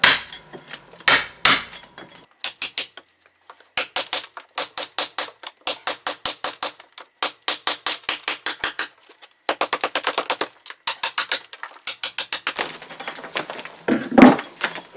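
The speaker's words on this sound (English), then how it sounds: "I'm actually cutting through because this bead is all rusty." Rusty metal angle bead being cut out of a plaster wall, heard as rapid bursts of loud rattling, chattering strikes with short pauses between them and a few sharper cracks, with no talk.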